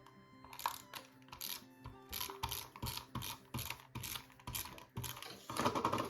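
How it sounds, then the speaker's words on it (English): Tape is pulled and pressed down over paper sheets for a scrapbook layout, making quick crackling, ratchety bursts in an uneven rhythm, close and fairly quiet. "I'm just gonna start taping all this down."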